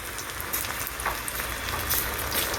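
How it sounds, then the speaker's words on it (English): Aloo pakora batter sprinkled into hot oil, a dense continuous sizzle and crackle of frying with small pops throughout, close and fairly loud. "Now we'll have to fry it like this. Yes, now you have to fry everything like this."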